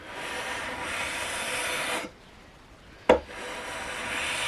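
Long, rasping strokes of sandpaper on a jazz guitar's wooden fretboard during a restoration, a steady scratchy rub that stops briefly, then a sharp knock and the sanding resumes, close up, no talk.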